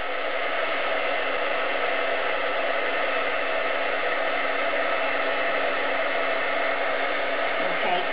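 Heat tool blowing hot air to melt embossing powder on a brad, a steady loud whooshing fan roar that runs unbroken and close, with no talk.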